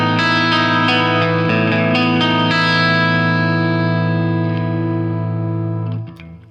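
A Music Man Y2D Dark Lord electric guitar fitted with Seymour Duncan P-Rails, played through its middle pickup alone, rings out a loud, bright, effected chord after a few quick strums, then sustains and slowly fades before cutting off.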